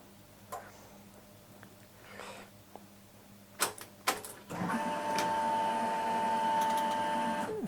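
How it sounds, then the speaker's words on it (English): Electric fuel pump on a Ford Anglia priming after the ignition is switched on, a steady mechanical buzz with a faint whine that starts abruptly after a couple of clicks and holds at an even level. "Fuel pump will prime"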